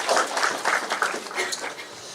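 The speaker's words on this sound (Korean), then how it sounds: "우리 박수 한번 합시다." A church congregation at a leaders' gathering claps together in a brief burst of dense, fairly close applause that fades slightly toward the end.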